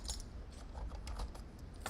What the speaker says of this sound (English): Hopefully these are the right keys for this lock.